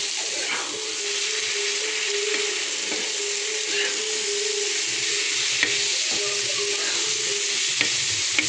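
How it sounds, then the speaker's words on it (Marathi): Tomatoes sizzle and fry on a hot tawa for egg bhurji, a steady close hiss with occasional scrapes and clicks of a spatula stirring the pan, with no voices over it. "टोमॅटो पण चांगलं फ्राय करून घेऊया ह्याच्यात शिजवून।"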